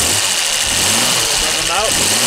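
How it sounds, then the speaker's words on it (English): A cold Jaguar XK engine idles with a steady, slightly lumpy mechanical hum close by, running continuously while someone talks over it. "Just idling, of course."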